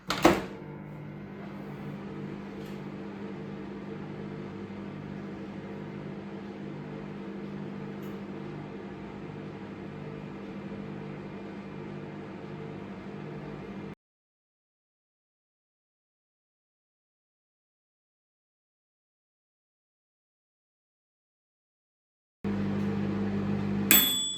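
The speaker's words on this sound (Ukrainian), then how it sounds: "Як бачимо, мікроволновка споживала трошки більше 1100 Вт" An EcoFlow power station runs a microwave oven that heats food. A sharp click opens a steady mechanical hum that stops abruptly, leaving a long silence before the hum resumes and ends in another click.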